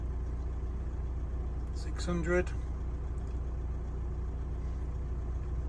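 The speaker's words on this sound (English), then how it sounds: "And the engine's just ticking over." A car engine ticks over at idle while an alternator charger draws power, a steady low hum running underneath throughout, with one brief spoken word partway through.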